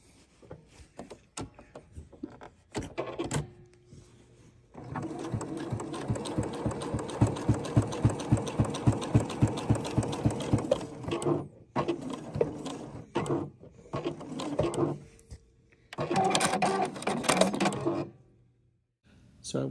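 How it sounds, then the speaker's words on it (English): A sewing machine stitches through layers of fabric for a fabric art piece in rapid, even mechanical bursts, close and fairly quiet, with pauses and a few handling clicks between runs. "I wanted to show you what it looked like as I'm sewing it and across the layers."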